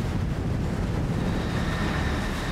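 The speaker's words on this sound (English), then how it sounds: "Windy." Strong wind roars across the wet deck of a swordfishing boat on a rainy day, a dense, unbroken rush buffeting the microphone, loud and steady throughout with no voices.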